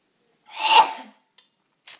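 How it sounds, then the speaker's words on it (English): A single close, loud sneeze bursts out, followed by two short, faint breathy sounds. "I gotta sneeze."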